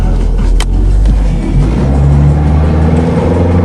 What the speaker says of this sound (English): Nah, still burning the same tire.